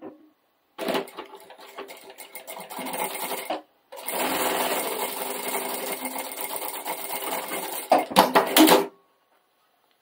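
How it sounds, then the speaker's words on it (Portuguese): A sewing machine stitches a green floral table runner in two steady whirring runs split by a short pause, ending in a few rapid louder bursts before stopping, close and clear. "E agora eu vou costurar."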